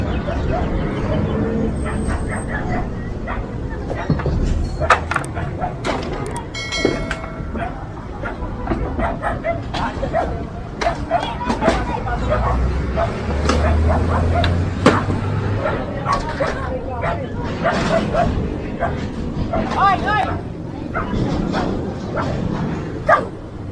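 A dog barks repeatedly nearby during a police street-clearing operation in the Philippines, over a busy outdoor background with people talking and some whimpering yips mixed in.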